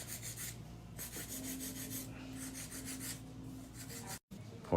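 Nail drill with a medium-grit bit filing down acrylic or gel on long nails, giving a steady close rasping whir with a faint motor tone that pulses in repeated strokes, then briefly cuts out near the end.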